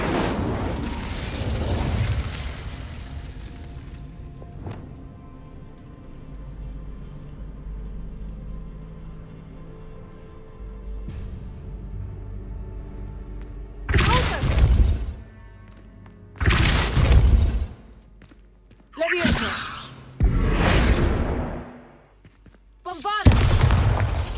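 Confringo and Incendio spells explode in the Hogwarts Legacy video game. After a quiet, droning stretch, five loud, separate booming blasts land a few seconds apart, each a sharp burst with a short rumbling decay.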